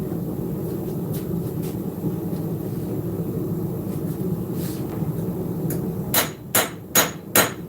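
Hammer blows on a knife blade being forged, a steady background rumble broken by four sharp, loud metallic strikes near the end in a quick regular rhythm, with faint earlier taps.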